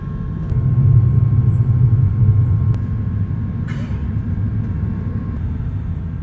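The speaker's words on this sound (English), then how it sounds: "It's now time for takeoff on Bangkok Suvarnabhumi International Airport's runway 19 right." A Cathay Pacific A350-900 beginning its takeoff roll on runway 19 right at Bangkok Suvarnabhumi, heard from the cabin as a steady low engine roar that swells and then holds, with a brief click in the middle.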